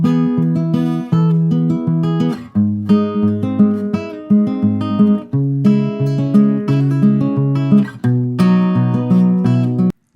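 An acoustic guitar plays a passage from a song, with clear plucked notes, hammer-ons and pull-offs in a gentle, repeating pattern, close and solo with no voice.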